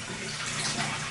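Hot water runs hard from a shower in an apartment bathroom, a steady full hiss of spray close by for about a second, with no talking.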